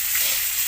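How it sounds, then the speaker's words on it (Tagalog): Lapu-lapu fish caught in Manila Bay fries in a pan, giving a dense, loud, continuous sizzle and crackle throughout the short moment, with no voices. "Prito na natin."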